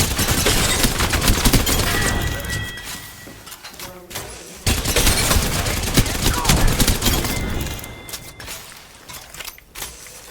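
Rapid gunfire from weapons in the video game Apex Legends, dense and loud bursts of automatic shots running almost continuously, with a brief lull midway before the firing resumes.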